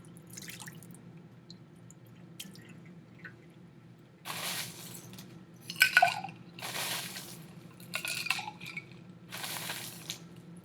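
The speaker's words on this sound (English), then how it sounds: "so that I can pour out some of this water." Water is poured out of a lab ice bath in several short splashy bursts, with drips and a few glassy clinks between them, all over a quiet steady hum.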